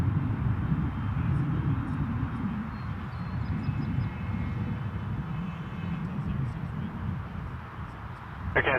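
A jet airliner lands on runway 06 right at Toronto Pearson Airport: a steady, broad engine roar from a distance that holds throughout, while radio voices talk over it.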